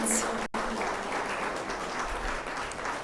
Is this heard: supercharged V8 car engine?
no